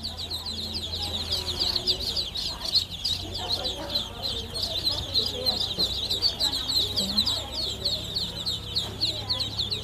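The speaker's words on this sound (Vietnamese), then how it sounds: "hôm nay em có dẫn chị Hằng tới đây để lựa vịt." Dense, continuous chorus of many ducks calling at a duck farm, with overlapping quacks and chatter filling the whole stretch at moderate distance and faint voices underneath.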